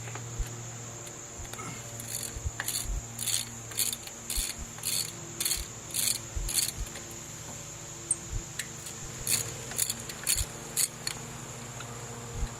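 A ratchet backs out the alternator mounting bolts on a Ford Mustang 3.8L V6, giving close bursts of rapid clicking in repeated short strokes over a steady background whine.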